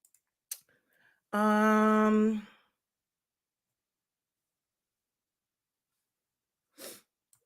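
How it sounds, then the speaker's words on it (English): A single close sneeze bursts out in a quiet room, with a faint breath before it and a soft sniff several seconds later. "We gotta sneeze too."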